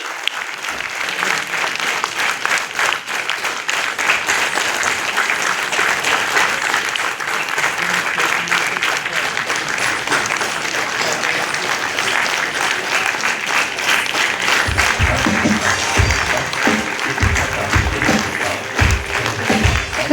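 An audience at an SBI Officers Association meeting in Vizag claps loudly and continuously after a dance performance, dense sustained applause, with a voice speaking over it and some heavier rhythmic thumps near the end.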